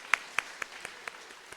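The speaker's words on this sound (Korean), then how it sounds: "우리 특별 출연 우리 사랑이 한번 큰 박수 부탁드립니다." A few sharp, evenly spaced hand claps ring out in a church service, starting crisp and growing fainter with each clap until they fade.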